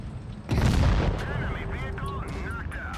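A tank cannon shot in World of Tanks Blitz, a single heavy boom with a rumbling tail, followed by engine and battle noise and some talk.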